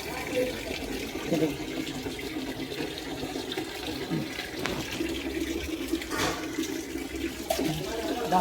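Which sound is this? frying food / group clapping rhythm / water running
water running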